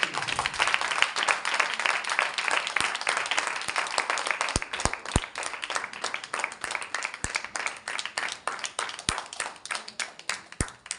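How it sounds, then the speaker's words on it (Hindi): A church congregation claps along during Hindi-language worship, with dense, rhythmic hand claps repeating steadily for several seconds and some sharp individual claps standing out near the listener. "हम यहोवा के लिए ताली बजाएंगे।"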